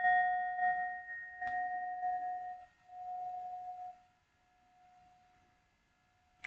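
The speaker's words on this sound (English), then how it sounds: "So I'll ring my little bell and we'll call in spirit." A small handheld bell rung in a quiet room gives a clear, sustained ding with bright overtones, struck again about a second and a half in and left to ring and fade, with a sharp final tap at the end.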